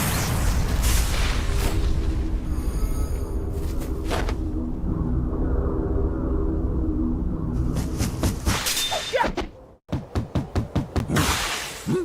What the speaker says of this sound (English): Or hear the explosion at that, like, how do you not hear that?